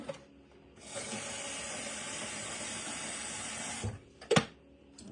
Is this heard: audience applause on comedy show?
no